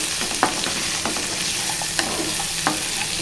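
Ivy gourd, onion and green chilli pieces fry in a pan with a steady sizzle, while a spoon stirs them and scrapes the pan a few times in short, sharp clacks.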